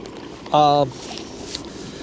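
A fishing boat runs at full speed across Lake Berryessa, only about 4 miles an hour, with a steady low hum mixed with wind buffeting and water noise throughout, broken by a short tonal blip near the start.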